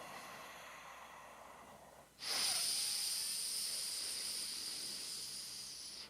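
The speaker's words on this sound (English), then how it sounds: "And with your ujjayi, bring in more of the gross breathing." Slow ujjayi breathing during a morning meditation, a quiet murmur that gives way after two seconds to a long, steady, airy throat hiss that holds, gently fading, until it stops abruptly.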